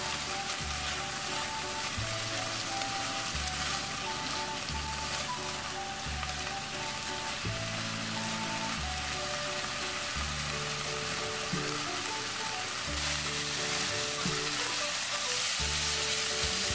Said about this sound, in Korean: 달구어진 팬에 밑간에 놓은 고사리를 넣어 밑간한 양념이 졸아질 때까지 강불에서